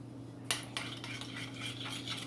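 A spoon stirs a small batch of mustard and maple syrup dressing in a dish. It starts with a sharp clink, then continues with scraping, clinking strokes close by over a low steady hum.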